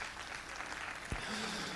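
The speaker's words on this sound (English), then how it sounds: "Clap your hands." Church congregation clapping their hands during a 1988 Sunday morning service, a steady dense patter of applause filling the room throughout, with a brief low thump and a faint sustained tone near the end.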